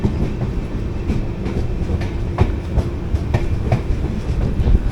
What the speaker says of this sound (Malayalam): നമ്മൾ ജസ്റ്റ് ചിപ്ലൂൺ സ്റ്റേഷനിലേക്ക് എത്തി.